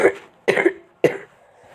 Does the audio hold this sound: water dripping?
no